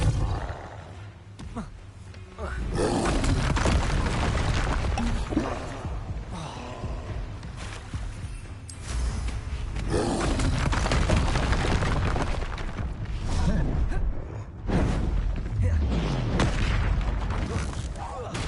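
Loud, continuous spell blasts, booms and crackling impacts from wizard combat in Hogwarts Legacy on PS5, dense and roaring for the whole stretch, with shouted spell names mixed in.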